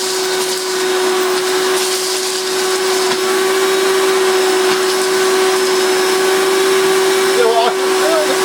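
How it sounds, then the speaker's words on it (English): A cheap, lightweight Goblin Rio 1000 vacuum cleaner with its floor tool picking up Cheerios, a steady loud motor whine running throughout with a slightly strained, growling tone and brief rattling pickups near the end. "But when it pick up these Cheerios,"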